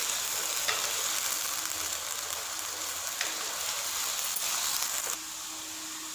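Taro root (arvi) frying in a pan makes a steady hiss of oil with scattered pops and occasional stirring knocks, moderately loud and continuous, easing slightly near the end.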